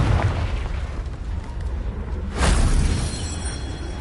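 A Confringo fire-blast spell in Hogwarts Legacy erupts into a fiery boom inside a castle, with a rumbling roar and then a sharp second burst midway, loud and close over a low game-world bed.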